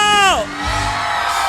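Crowd at a political grand rally in 2022 shouting and cheering, a loud sustained roar of many voices following a single falling shout.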